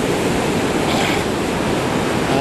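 Ocean waves breaking on a beach, a loud continuous wash of surf with a faint swell midway, close to the mic and without talk.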